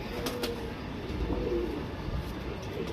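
Breeding pigeons coo nearby, soft low rolling calls repeating over a faint steady background.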